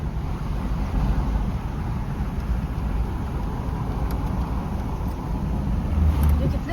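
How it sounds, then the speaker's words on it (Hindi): Car being driven up close on a mountain road near Almora, a steady low engine and road rumble continuing throughout at moderate loudness with faint wind. "पास ला रहा है गाड़ी।"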